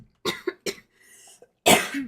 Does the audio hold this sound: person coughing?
yes